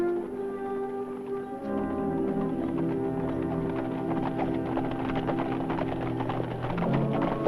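Horses' hooves clip-clop steadily and close at hand in a Western setting, a continuous rhythmic patter running the whole stretch with no talk over it.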